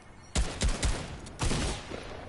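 Sniper rifle fire in an arena shooter game, a few sharp cracks spaced unevenly over two seconds, fairly quiet and distant-sounding, with no voices over them.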